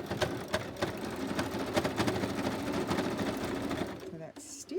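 A sewing machine stitches through old book pages with a fast, steady mechanical chatter close by, stopping near the end, while a person talks over it.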